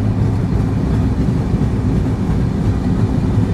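The Rupsha Bangla Express rolls into Bhanga railway junction in Faridpur, a steady low rumble and rattle of the moving train carriages heard from inside, continuous and fairly loud with no talk.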